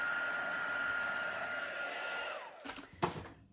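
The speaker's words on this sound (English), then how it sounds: "which is to heat emboss, but especially heat emboss with metallics" A heat gun blows steadily for heat embossing metallic powder, a loud close whooshing hum that winds down in pitch and cuts off, followed by a couple of soft handling knocks.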